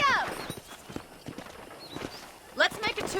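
Horse hooves clip-clop at a steady walking pace on a ranch in Red Dead Redemption, moderately loud under a man's spoken lines, with a short burst of voice near the end.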